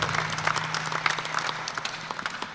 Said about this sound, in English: let's give all of our sheriff candidates a round of applause